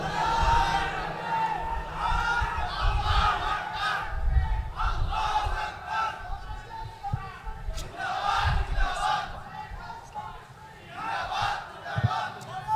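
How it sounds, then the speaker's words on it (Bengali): A crowd at a Jamaat-e-Islami religious gathering in Shahbag, Dhaka, chants slogans together in loud rhythmic bursts, call-and-response style, to welcome an honoured guest. "আমরা এই ফাঁকে একটা স্লোগান দিয়ে আজকে সম্মানিত মেহমানকে বরণ করছি"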